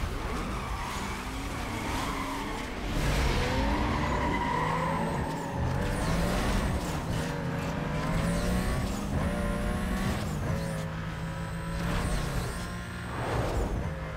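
Car racing in the 2005 video game Need for Speed Most Wanted: a loud engine revs up and down through gear changes, with tires squealing and skidding throughout, steady and close.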